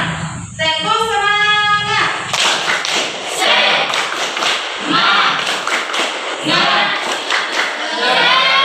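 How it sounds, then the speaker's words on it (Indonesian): A class of students does a rhythmic spirit clap (tepuk semangat) in an Indonesian school lesson: a quick patterned run of hand claps and taps, close and lively, opening with children's sung or chanted voices. "Oke, sekarang tepuk semangat."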